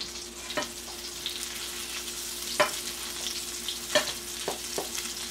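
Salmon frying in hot butter in a pan while being basted, a steady soft sizzle with scattered sharp crackles and pops, fairly quiet and close, no voices.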